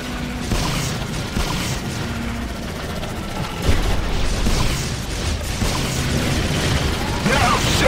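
Chaotic gunfire and explosions during a dome defense battle in Global Agenda, a dense continuous barrage of shots and booms with occasional louder blasts, close and steady throughout.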